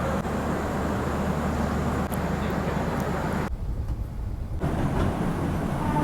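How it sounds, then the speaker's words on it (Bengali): The 22642 SHM TVC Superfast Express rolls along at night just after leaving Shalimar station, heard from inside as a constant low rumble and roar with a brief quieter dip midway. "একদম রাইট টাইমে শালিমার স্টেশন থেকে ট্রেন ছেড়ে দিয়েছে।"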